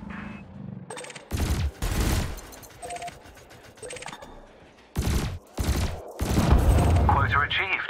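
Spaceship cannon and laser fire in the game Elite Dangerous: loud, close bursts of rapid shots and booming blasts in several separate volleys with short pauses between them, ending in a longer sustained barrage.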